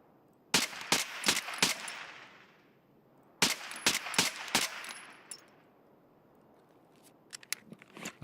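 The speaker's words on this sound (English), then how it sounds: "I'm shooting Nerf bullets" Nerf gun shots in a video game ring out as two bursts of four sharp, snappy reports each, close and loud, with a few scattered quieter clicks afterward.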